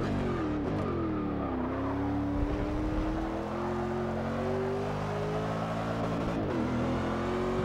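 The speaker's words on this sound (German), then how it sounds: "der V8 prügelt uns ja auch gut nach vorne" A V8 race car engine in the Forza Motorsport 6 racing game drones loud and steady throughout, its pitch rising and falling as it revs with gear changes, heard alone without talk.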